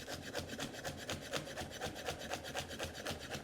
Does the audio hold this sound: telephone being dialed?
no